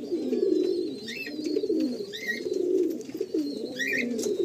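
Madrasi pigeons coo in low, rolling, repeated phrases that run steadily through the scene, with a few brief higher chirps from other birds above them.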